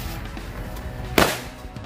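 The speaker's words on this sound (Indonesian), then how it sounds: "Yang selanjutnya ini adalah mercon UFO warna pink guys, atau mercon piring terbang." A pink UFO flying-saucer firecracker goes off with a single sharp pop at a distance, heard over steady outdoor background noise.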